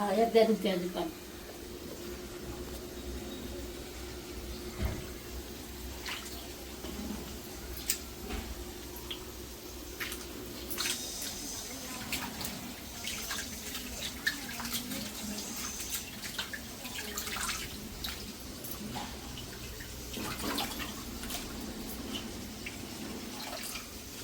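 Oysters being rinsed in water, with soft splashing, dripping and the clack of shells moving in a container, close and fairly quiet, in irregular bursts over a low background.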